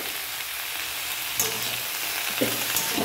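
Ingredients for a Bengali fish curry fry in a pan with a constant, close sizzle, broken by a few soft scraping clicks as they are stirred. No one speaks.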